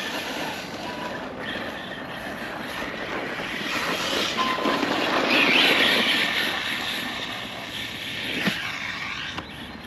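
A 6S-powered Beast RC airplane flying over a meadow, its electric motor a continuous whine that swells louder as it passes closer, then eases back.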